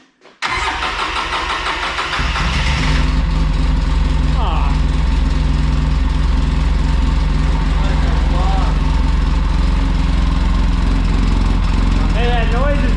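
Rebuilt 800 engine running steadily after its first start, a loud continuous rumbling idle close by, with voices talking over it in places.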